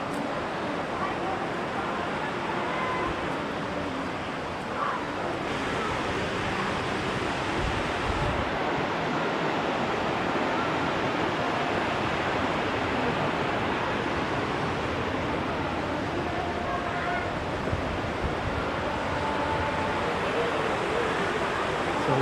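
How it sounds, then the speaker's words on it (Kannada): Kaveri river water near the Chunchanakatte temple rushing in a steady, dense wash of noise that holds constant and loud throughout, with no pauses. "ಸೊ ಇದು ಬಂದು ಕಾವೇರಿ ನದಿ."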